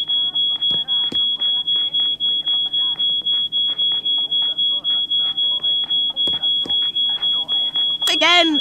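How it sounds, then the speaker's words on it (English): A loud, unbroken high-pitched electronic squeal from a smoke alarm tripped by burnt toast runs through the whole stretch while voices talk over it, and a sharp burst of noise comes near the end. "can we just switch off that alarm?"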